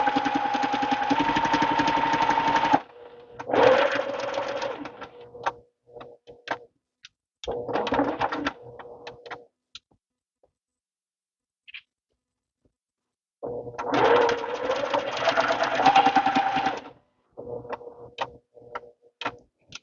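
A sewing machine stitches a baby quilt in several runs of steady, rhythmic whirring, broken by quiet pauses and scattered light clicks, recorded close up.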